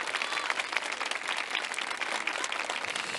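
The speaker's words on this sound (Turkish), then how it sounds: "Kocaman bir alkış gelsin." Steady applause from a crowd at a Turkish gathering, dense and even clapping that continues throughout at moderate volume.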